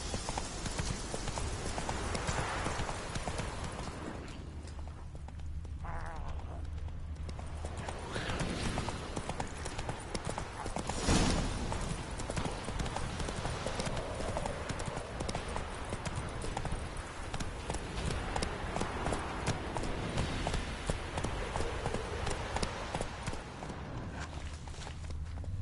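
Roach the horse galloping in The Witcher 3, with rapid rhythmic hoofbeats clip-clopping steadily throughout, close and fairly loud, easing briefly before picking up again, with no speech.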